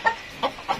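Backyard village hens, older birds and a new generation, give three short, close clucks in quick succession.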